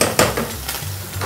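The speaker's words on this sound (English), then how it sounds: "Yeah, you want to get a nice crust on like that on the steak. We'll sear it from the outside." Filet mignon sears in a hot pan, a loud close sizzle with a couple of sharp scrapes and taps from cooking utensils.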